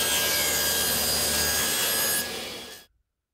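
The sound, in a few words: cutting wood for a wooden clamp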